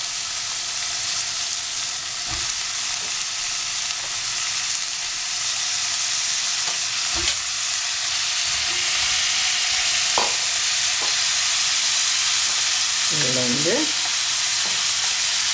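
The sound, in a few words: eggplant and onion frying and being stirred in oil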